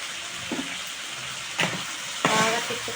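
Grated dry coconut and small onions fry in a pan, a soft steady sizzle broken by three distinct scraping stirs that grow louder toward the end, with no voices.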